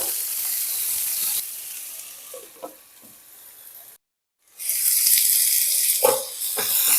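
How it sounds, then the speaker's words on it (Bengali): Taro and carrot pieces fry in oil in a pan for a vegetarian spinach ghonto, giving a loud, steady sizzle that drops away briefly for about half a second and then returns just as strong. "গাঁটি কচুগুলোকেও দিয়ে দিলাম আর যে গাজর সেটাকেও দিয়ে দিলাম সমস্ত শক্ত সবজিগুলোকে আগে ভেজে নেব"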